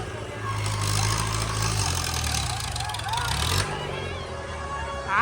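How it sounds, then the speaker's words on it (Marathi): A boat's motor starts up and runs at a steady idle, a constant low engine rumble filling the background under continuous crowd chatter and voices at a festival. "आवाज बघा, आवाज. बोट चालू झाली, बोट."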